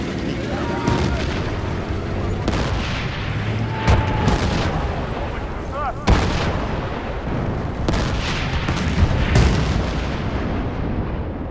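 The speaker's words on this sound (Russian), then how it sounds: "Заряд установлен! Взрываю!" Heavy booms and blasts from a demolition charge and battlefield fire in Battlefield: Bad Company, loud sharp detonations every few seconds over constant rumbling combat noise, with voices shouting beneath.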